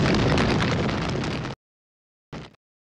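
Hydraulic oil under high pressure igniting on a hot motor exhaust manifold in a power unit: a loud, broad roaring burst lasting about a second and a half, then silence and a second short burst.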